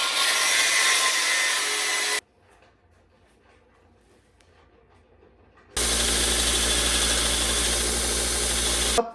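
A power saw cuts a quarter-inch square metal bar in two loud, harsh bursts, each running a couple of seconds or more, separated by a quiet gap of faint background sound.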